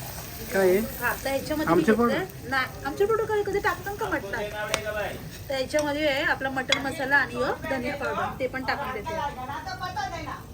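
Spice masala is stirred in a cooking pan with a metal utensil, giving clinks and scrapes against the pan under continuous talking by a woman.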